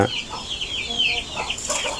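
Chickens cluck steadily at a farm coop, close and fairly loud, with several birds overlapping in short calls.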